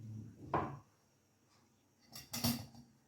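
Two quiet metallic clunks, one early and one a second and a half later, as a steamer plate is set down inside a pot of boiling water, in a quiet room.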